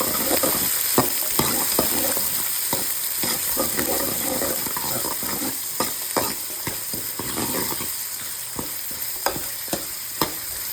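Shallots and curry leaves sizzle steadily in a hot pan, with irregular clicks and scrapes from stirring throughout.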